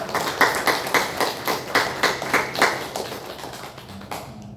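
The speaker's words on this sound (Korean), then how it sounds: "우리 모든 영광을 하나님께 박수로 올려드리겠습니다." Church congregation clapping together in rhythm during a Sunday Advent worship service, a steady run of sharp, evenly spaced claps that fades away near the end.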